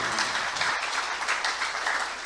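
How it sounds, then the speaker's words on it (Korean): Crowd applause from a packed audience at a gathering in Jeonju, South Korea, a steady dense wash of clapping that holds at an even level throughout. "박수."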